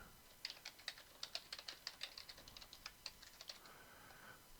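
Someone enters a password on a computer keyboard, a quiet run of about twenty crisp key clicks in an uneven rhythm, close by, with no talking.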